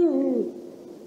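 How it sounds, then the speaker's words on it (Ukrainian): A single close, clear owl hoot, used as a spooky forest sound effect, sounding alone and fading over about a second. "вони обов'язково повинні додати гукання сови"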